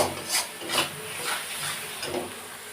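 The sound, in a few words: sautéing spice paste for meat curry in a pan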